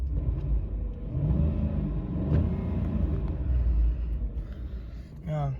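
A Ford 5.4 Triton truck engine idles with a low, steady rumble, surging a little as it is revved, heard up close with a brief sharper noise near the end.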